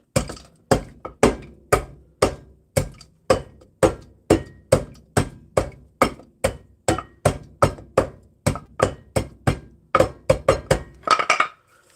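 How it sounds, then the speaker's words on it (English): Almonds are pounded in a mortar with a pestle: about twenty-five sharp, close knocks in a steady, even rhythm, each with a short ringing decay, ending in a quicker flurry of grinding taps, with no talking. "using this mortar and pestle."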